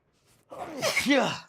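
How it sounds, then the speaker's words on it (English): A person who is sick lets out a single loud, breathy sneeze after a faint intake of breath, close to the microphone with nothing else around it. "I'm not gonna stop sneezing"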